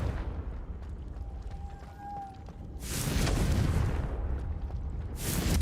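Spell explosions of Confringo in Hogwarts Legacy, a thin whooshing tone followed by two broad booming bursts with a rumbling roar, loud and near over steady background noise.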